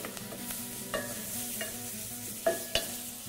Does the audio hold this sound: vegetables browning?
yes